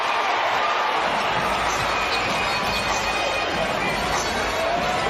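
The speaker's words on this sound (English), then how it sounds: "And listen to the crowd." A home crowd at an NBA regular-season game between the Pelicans and the Grizzlies keeps up a loud, steady roar of cheering for the whole stretch, while a commentator talks over it.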